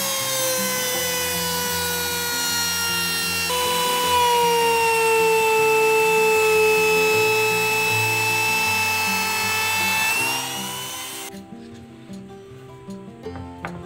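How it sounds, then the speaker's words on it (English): High-pitched power tool whine, steady and loud, as Japanese cypress board edges are chamfered round for a compact study desk, holding for about ten seconds before cutting off into quieter workshop noise. "To make the edges rounded, I chamfer wildly."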